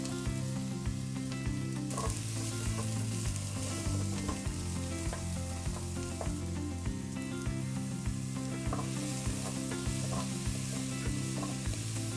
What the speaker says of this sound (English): And then first I'm going to chuck in my onions.